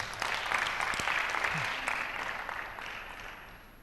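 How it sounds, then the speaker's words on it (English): An audience at a university reading competition applauds a reader, with dense clapping that starts strong and gradually thins and fades over several seconds. "Another round of applause for her"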